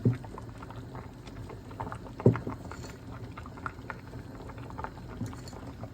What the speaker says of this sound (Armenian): Հինգ րոպե էլ թող եռա